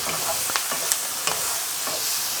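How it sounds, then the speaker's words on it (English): Tofu and vegetables stir-fry in black bean sauce with a small amount of oil, giving a steady, close sizzle broken by soft scraping and clinking stirs. "even though we're stir frying"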